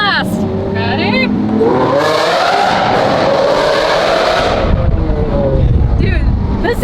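Lamborghini Aventador V12 fitted with an F1 race exhaust, blasting through a tunnel: a loud, roaring rev that climbs and holds for several seconds before dropping away, with people talking and shouting around it.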